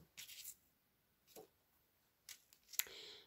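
Scissors snip a pendant cord end in a few quick, close, faint clicks, with quiet pauses between the cuts.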